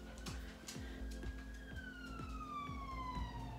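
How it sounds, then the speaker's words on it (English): Fire engine sirens sound outside a house in the UK, a faint wailing tone that sweeps slowly up and down over a low rhythmic thumping, distant and muffled, with no speech. "Oh my gosh, I can hear sirens outside."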